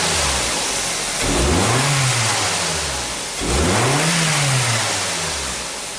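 A car engine revs up twice as the throttle is pressed, each burst rising in pitch then falling back toward idle, loud and close with no talk; the engine is fitted with a home-made pressure transducer probe.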